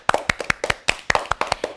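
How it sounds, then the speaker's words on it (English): A classroom of students claps for a classmate, with sharp, distinct handclaps in a quick, slightly uneven rhythm, close and fairly loud, with no talking. "Let us all clap for her."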